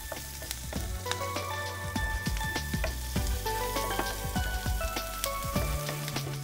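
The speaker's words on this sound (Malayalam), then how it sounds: "സവോള ഒന്ന് വഴന്ന് അതിലേക്ക് കാപ്സിക്കം ഇട്ട് കൊടുക്കാം" Onion and capsicum sauté in the same oil used earlier to fry fish, giving a steady close sizzle with scattered crackles and the clicks of stirring in the pan, no voices.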